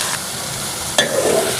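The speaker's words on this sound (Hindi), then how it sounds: "प्याज को हम ब्राउन करेंगे हल्का हल्का।" Finely chopped onions tossed into a hot pan for a chicken keema, giving a soft hiss that swells with a brief stir partway through, steady and close with no talking.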